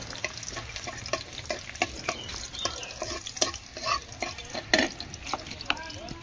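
Garlic and onion fry in oil in a pan while a utensil stirs and scrapes steadily, a constant sizzle under irregular clinks and scrapes, with faint background voices.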